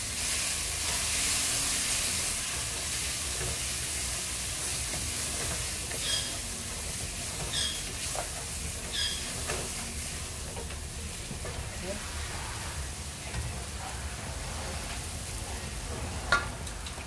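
Chili, turmeric and garam powders being mixed into sizzling mutton biryani masala in a kadai, a continuous hiss of frying with occasional light clinks and scrapes of a spoon.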